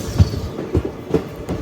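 A WAP-4 electric locomotive pulls the Nagarsol Superfast Express 12787 along the track, giving a steady clickety-clack of wheel beats over rail joints, heard close from within the rear coach, with no voices.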